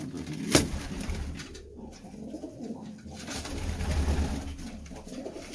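Racing pigeons coo in a loft, with soft low burbling calls that swell and fade close by, and a sharp clack and some rustling mixed in.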